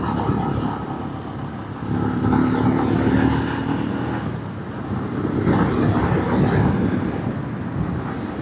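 A Royal Enfield Himalayan 411 motorcycle ridden along country roads on an October evening gives a steady engine drone blended with wind rush, swelling louder twice, with no talking.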